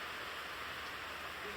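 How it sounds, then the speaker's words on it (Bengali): Gentle afternoon rain falls in a soft, even hiss, steady and faint throughout with no distinct drops or other sounds standing out. "শান্তশিষ্ট বৃষ্টি হচ্ছে মা বিকেল বেলা"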